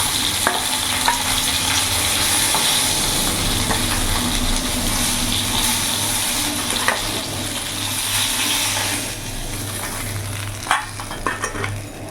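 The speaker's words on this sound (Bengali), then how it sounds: "এপিট ওপিট করে মাছগুলো লাল করে ভেজে নিয়েছি" Rohu fish pieces fry in hot oil in a kadai, a steady close sizzle and crackle running throughout, easing slightly near the end with a few sharper pops.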